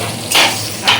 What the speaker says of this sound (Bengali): এটাকে আমি এবার ভালো করে ভাজা ভাজা করে নেব